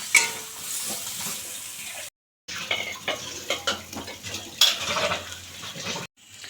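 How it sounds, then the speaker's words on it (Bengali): Prawns frying in a pan with a steady crackle, punctuated by clinks and scrapes of a utensil against the pan, briefly cut by a short silence. "এখানে চিংড়ি মাছগুলো ভেজে নিচ্ছি"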